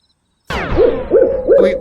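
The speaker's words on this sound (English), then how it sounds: "White owls." Three rising-and-falling owl hoots, close and loud, repeat at a steady pace outdoors at Warwick's disc golf course during a tournament.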